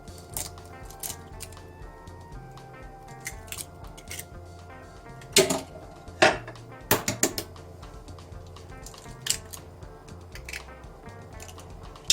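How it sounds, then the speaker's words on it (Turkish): Eggs cracked one after another into little cups of Turkish sucuk sausage for a breakfast dish: a handful of sharp, brief cracks and taps near the middle, over steady background music. "şimdi de içlerini yumurtalarımızı kıralım"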